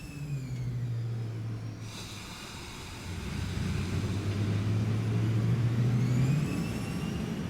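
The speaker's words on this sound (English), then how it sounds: "just listen to the startup sound of those jet engines" Jet engines spool up at startup in War Thunder, a Korea air battle, with rising whines and a low steady hum that grows louder and then swells again, without speech.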